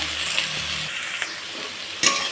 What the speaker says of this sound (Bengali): তো পেঁয়াজটাকে একটু লাল করে ভেজে নেব